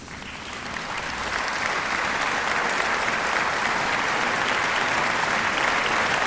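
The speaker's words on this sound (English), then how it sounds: "let's give you a round of applause" A crowd claps steadily for several seconds, the applause swelling slightly and holding at a constant, fairly loud level.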